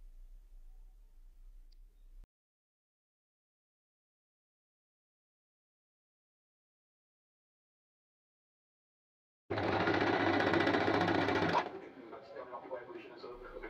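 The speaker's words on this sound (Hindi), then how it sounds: "फोल्ड करके मैं इसके ऊपर सिलाई लगा लूँगी" A sewing machine stitches a half-inch folded hem on a hijab cap, running in one loud close burst of about two seconds after a long silence, then fading into softer handling noise.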